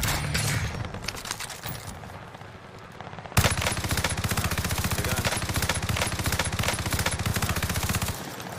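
Rapid, loud shotgun fire from a video game bursts in quick repeating blasts, quieter and sparser at first, then a dense hammering volley after a sharp jump in volume that continues nearly to the end.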